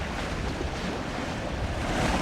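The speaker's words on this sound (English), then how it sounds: "we're now at sea properly and off on this first maiden voyage" Constant roar of waves and buffeting wind at sea aboard the small yacht Mingming II on her maiden voyage, loud and unbroken throughout, with no voices.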